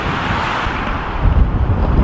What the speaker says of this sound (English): Why does it have to be so goddamn windy again?